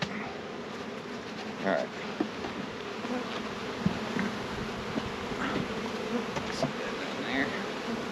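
Bees buzz in a steady, close drone around stacked hive boxes during an early spring split, with occasional knocks of equipment and a brief spoken remark.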